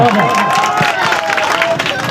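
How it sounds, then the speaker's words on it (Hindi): Audience clapping and cheering at an outdoor village play, a dense, steady wash of applause with crowd noise filling the whole stretch, close and loud. "जोरदार ताली एक बार बहुत"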